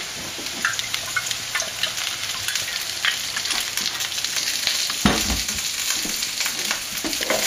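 Potatoes fry in oil in a pan, giving a steady broadband sizzle with occasional stirring clatter and a brief louder pop of scraping near the end.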